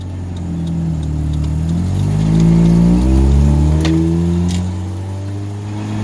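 A 1.6-litre Mazda Miata engine with a Jackson Racing M45 supercharger revs up loudly in first gear with rising pitch and a faint whine, holding strong before easing off slightly, no talking.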